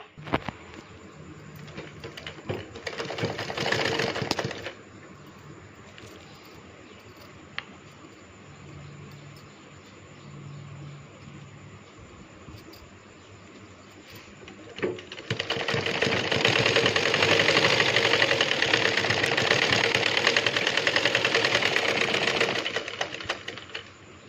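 A home sewing machine stitches clothing near a neckline in two bursts: a short whirring run early on, then a longer, louder steady run, with quieter handling sounds between them.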